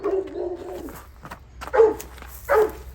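A Rottweiler barks and whimpers near the door during a staged home-invasion drill, with three loud bursts spread over a few seconds against a low background rumble.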